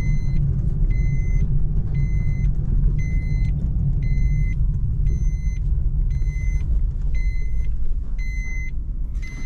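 A car running on the road, a steady low engine and road rumble with a regular high electronic beep chiming about once a second the whole time.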